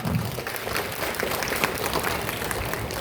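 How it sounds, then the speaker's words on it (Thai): Audience applause fills a Muay Thai grading ceremony in Lopburi, a steady wash of clapping hands that carries on evenly throughout, with a brief low murmur near the start. "ขอเสียงปรบมือหน่อยครับ"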